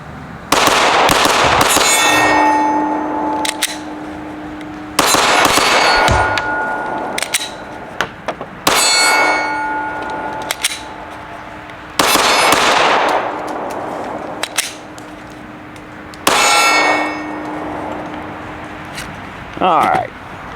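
Strings of sharp, loud pistol shots ring out in rapid bursts at steel targets, each volley followed by a metallic ping, with several groups separated by short pauses and a person talking between them.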